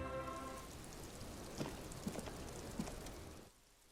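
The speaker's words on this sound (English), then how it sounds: "It's getting late, and it's raining." Soft, steady rain in Disco Elysium patters in the background with a few light knocks, then the sound drops away near the end.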